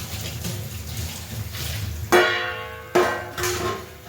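Tap water runs and splashes over cut papaya pieces set to drain in a kitchen, a steady low wash broken by three louder gushing bursts near the end.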